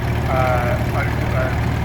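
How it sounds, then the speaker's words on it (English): A vintage David Brown tractor engine idles in a steady low rumble at an outdoor steam rally, while a person talks over it. "Again, another very nice original tractor"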